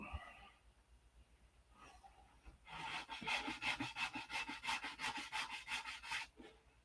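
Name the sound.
sanding a P-47 model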